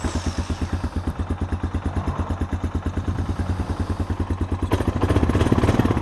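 A 22-year-old Honda Foreman ATV engine chugs in a fast, even idle pulse close by, then picks up and revs a little louder near the end.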